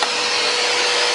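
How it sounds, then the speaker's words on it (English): A vacuum cleaner sucks up small debris inside an aquarium being resealed, a loud, close, steady whooshing roar throughout the brief moment. "Vacuum all this little stuff up."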